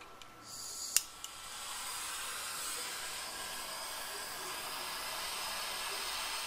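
A torch heats a small metal wire and ear post to melt solder, giving a steady soft roaring hiss that starts after a couple of faint clicks and holds evenly throughout, close and fairly quiet.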